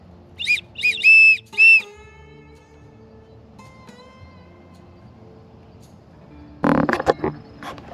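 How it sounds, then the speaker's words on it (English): At night on a backpacking trip, a whistle is blown to drive off feral hogs: four short, shrill blasts come close together. Quiet, faint background noise follows, then a burst of rustling at the end. "I'm trying to hurry up and get my whistle out."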